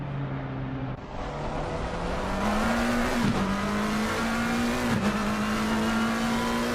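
Ferrari GT3 race car with driver Wiedemann heading out onto track in Assetto Corsa Competizione, a steady engine drone that rises in pitch as it accelerates, with brief gear-shift dips, loud and continuous, no talk.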